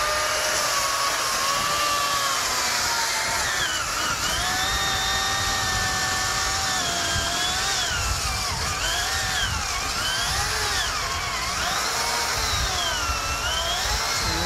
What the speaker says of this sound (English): I know you're ready to fire that chainsaw up.